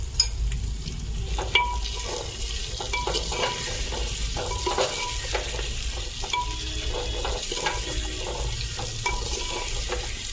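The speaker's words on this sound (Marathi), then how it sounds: "तर आता आपण उभा चिरलेला कांदा घालून घेऊया।" Sliced onion frying in a pan for a village-style prawn curry sizzles steadily, with repeated scraping and stirring clatters over the hiss. It is close up and there are no voices.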